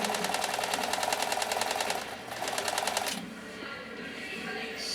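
A Riccar 2925 sewing machine stitching a cam-generated stitch runs with a fast, even mechanical chatter for about three seconds, pauses briefly, then stops into a quieter hum.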